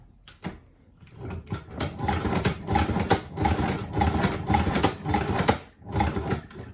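A Chinese leather shoe patcher sewing machine runs in bursts, with rapid mechanical clatter and rattling starts and stops close by, loud and irregular, as if misbehaving.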